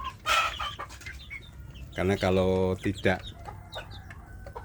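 Free-range kampung chicks clucking and peeping while feeding, a few short calls and one louder stretch of clucking, with someone speaking briefly nearby.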